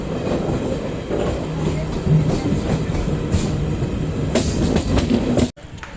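Seshadri Express (train no. 17209) runs into Kavali station, a steady close rumble of rolling wheels and carriages with faint clatter and brief squeals, cutting off abruptly near the end.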